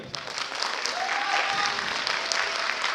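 Steady applause from an audience at a dance competition-festival, a dense wash of clapping hands that continues evenly throughout without pause.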